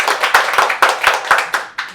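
Clapping at a political discussion meeting: about eight crisp, evenly spaced claps in a quick rhythm, loud and close, with the sound of a small group rather than a large crowd.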